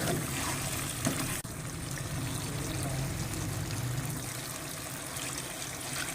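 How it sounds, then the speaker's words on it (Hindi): Water is poured from glasses into a cooking pot of fried potato masala, a steady trickling pour with a brief clink near the start. "अब इसमें 3 गिलास पानी के शामिल करेंगे हम।"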